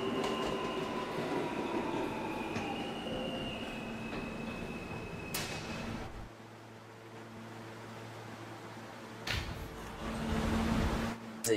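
An R160A subway car on the E train rolls along the track with a steady rumble and a tonal motor whine, followed by a quieter stretch and then some clunks and a rising roar.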